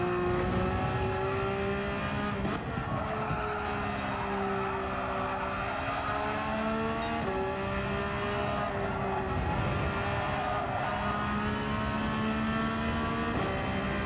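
A race car in Gran Turismo 7 accelerates hard through the gears, its engine tone climbing repeatedly and dropping at each shift, loud and continuous with tyre noise underneath.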